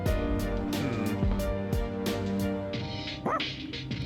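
A dog in the video game Persona 3 Reload gives a series of close, sharp barks and yips in an uneven rhythm, ending with a brief rising whimper, with game music faintly underneath.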